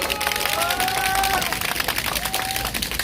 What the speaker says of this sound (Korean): 박수로 인사드리겠습니다